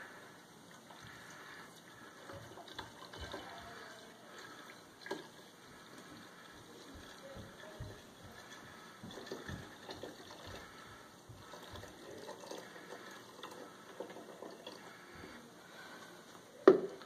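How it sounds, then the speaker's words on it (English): Water poured into a vessel while making mead, a steady low trickle and soft splashing throughout, with a sharp knock close by near the end. "now we're going to pour in the water"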